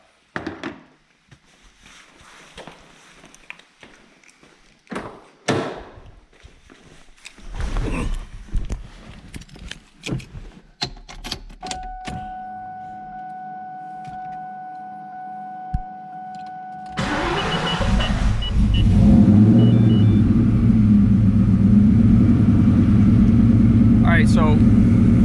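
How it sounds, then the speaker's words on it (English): A 2003 Ford Mustang Cobra fitted with a coolant chiller system is reached amid scattered thumps and clicks, then cranks with a whine and fires into a loud, steady idle close by, with people talking. "Let's go start the car up."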